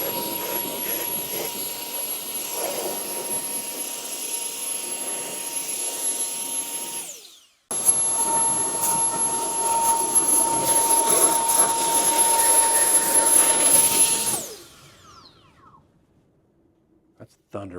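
A VortexHaus Turbo Jet Double Blow V2 car dryer roars in two loud, steady jet-like blasts while drying a truck. The first cuts off abruptly and the second runs longer before winding down to near silence.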